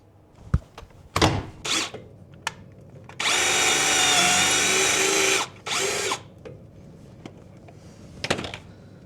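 Power drill boring an 8.3 mm hole into a Classic Mini exhaust mount, with a few short bursts before one sustained loud run of about two seconds, then a brief final burst, close and with no talk.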